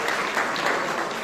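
An audience at the Ficam festival breaks into a dense, even burst of clapping, brief and fairly loud, with no voices rising above it.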